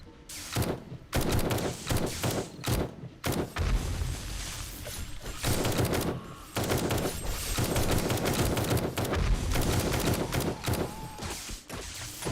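Rapid submachine gun fire from the survival video game 7 Days to Die rattles through the whole stretch in dense, repeated bursts, loud and close with only brief gaps between volleys, and no talk over it.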